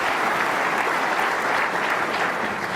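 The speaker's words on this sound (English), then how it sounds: "Nice round of applause from Peter Ebden" A snooker crowd at the World Championship gives dense, steady applause from start to finish.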